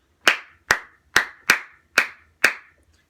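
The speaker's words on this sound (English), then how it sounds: "You can clap along with the rhythm." Six sharp single hand claps alone in a quiet room, close and evenly spaced in a steady rhythm, clapped along with a cello lesson's triplet rhythm.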